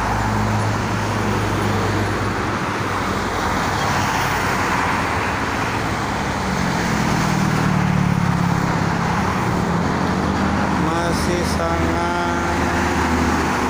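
Steady traffic on the Cikampek toll road, with cars passing in a continuous broad roar and one vehicle briefly swelling closer midway. A voice talks over the road noise.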